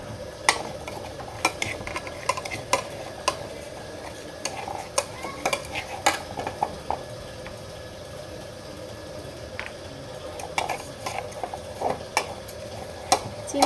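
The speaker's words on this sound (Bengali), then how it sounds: "অনবরত নাড়তে থাকি" Tea leaves and sugar being stirred nonstop in a hot pan as the sugar melts, a faint sizzle under frequent sharp scrapes and taps of a utensil against metal, close and continuous, no voices.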